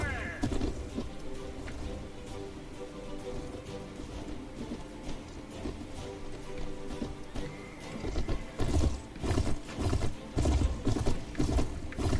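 Horse hooves clopping in a video game, a busy galloping rhythm blended with rain-like hiss and dense game sounds, growing louder and choppier toward the end.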